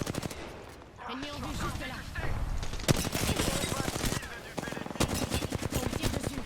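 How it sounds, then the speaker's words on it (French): Rapid gunfire in Apex Legends, loud bursts of automatic shots clattering close, with brief lulls between volleys while a player talks over the fighting. "On me tire dessus."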